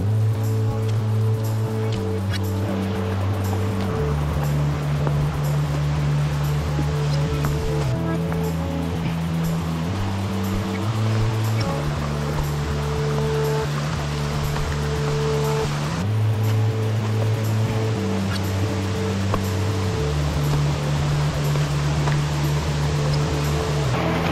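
Kinabuan Falls in Tanay, Rizal, running with a fairly weak flow of water, gives a steady, even rush of falling water that holds unbroken and moderately loud for the whole stretch.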